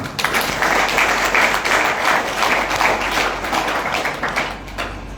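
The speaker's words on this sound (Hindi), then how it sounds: "जोरदार तालियां आप सभी की सेहत के नाम में" Sustained applause from an audience at a health awareness seminar, steady and dense for several seconds, filling the room without letup.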